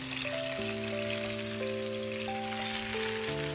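Steady crackling sizzle of surmai fish shallow frying in oil in a pan, even and continuous throughout, with sustained musical tones playing faintly in the background.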